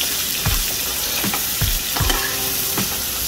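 Party snacks frying in hot oil in a pan, a steady broadband sizzle with repeated low thumps and scrapes as the pieces are stirred, close and continuous with no talking.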